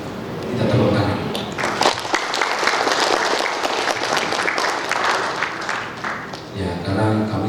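An audience applauds at the graduation ceremony of STMIK MIC Cikarang in Indonesia: a sustained, dense wash of clapping that fills the hall, with a speaker's voice heard briefly at the start and again at the end.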